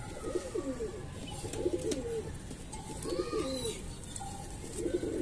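Lakha pigeons coo in a steady series of soft, rounded, throaty phrases, about four repeated calls spaced evenly over a low background of other distant birds.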